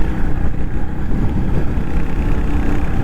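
Royal Enfield Hunter 350 motorcycle cruising at about 60, a loud, steady engine drone with wind rush and no speech.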